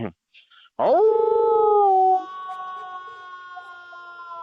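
A person imitates a dog-like howl with their voice, a single rising, sustained wail that holds steady for a couple of seconds and then trails off into a softer tone, loud and close to the mic.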